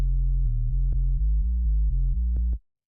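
Synth bass made from a saw or square wave run through a low-pass filter, a fat, smooth tech house bassline of sustained low notes stepping between pitches with a few clicky attacks, stopping abruptly.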